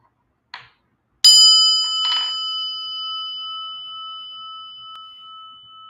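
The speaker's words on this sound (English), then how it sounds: "listen to the prayer bell." A single bright prayer bell strike rings out and sustains with a long, slowly fading tone, preceded by a soft rustle or tap.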